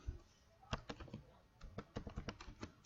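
Keystrokes on a computer keyboard while entering a date into an Access query, a series of quick, fairly quiet clicks in short uneven bursts with a few pauses.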